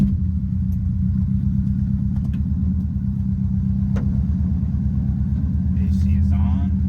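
A bugeye Subaru Impreza WRX STI drives along, its engine a steady close rumble heard from inside the car. Light clicks and a brief voice-like sound come near the end.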